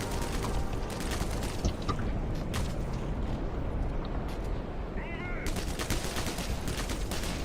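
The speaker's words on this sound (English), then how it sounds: "Who's shooting at me?" Rapid gunfire crackles continuously through a video game firefight, bursts layered densely over the whole stretch while a voice talks over it.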